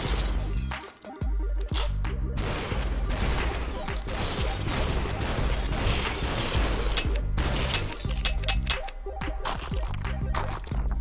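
Rapid bursts of gunfire and crashing impacts from the Superhot VR video game fill the stretch densely and loudly, with sharp cracks and mechanical clatter layered over a constant game soundtrack.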